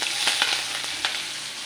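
Onion dropped into hot oil with cumin frying, a steady close sizzle with a few sharper crackling bursts and no voices.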